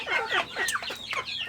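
Penned native chickens cluck in a quick, close series of short calls, fairly quiet and with no talk.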